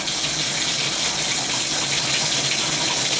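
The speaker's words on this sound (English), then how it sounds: "So I'm basically just going to go run some hot water. I prefer to use the bathtub to get the air out." Hot water gushes steadily from a bathtub tap, a loud, close, continuous splashing rush with no pauses and no voices.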